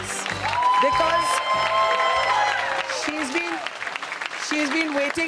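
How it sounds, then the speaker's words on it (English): A crowd at a We The Women event applauds Sudha Murty with steady, dense clapping and some cheers, blended with loud stage music and a voice speaking over it. "Let's give her a big applause"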